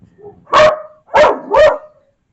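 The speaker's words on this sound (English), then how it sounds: "oh, dog's barking." A dog barks three times nearby, loud and sharp, with a quieter whine just before the first bark.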